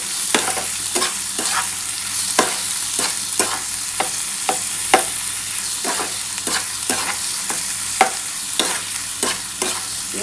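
Tomato and spices fry in a pan, a constant close sizzle punctuated by regular scraping strokes of a spatula stirring the mixture, with no voices.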